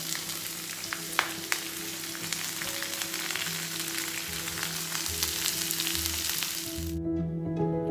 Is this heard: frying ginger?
yes